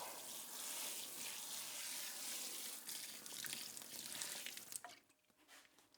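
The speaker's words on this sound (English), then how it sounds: "I have my watering can here, and I just water it down a little bit" Water pouring from a watering can onto soil in a DIY self-watering, sub-irrigated planter, a steady close splashing hiss that runs continuously before thinning out near the end.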